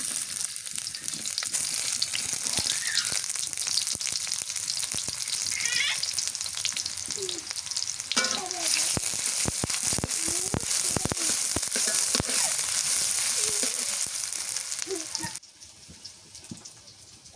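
Onions fry loudly in hot oil for a village-style hilsa fish curry, a dense continuous sizzle with bursts of crackling and stirring, fading to quiet near the end.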